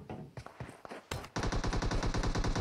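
Gunfire in a PUBG battle royale match: a couple of scattered shots, then a sustained rapid automatic burst, loud and close, with no talk over it.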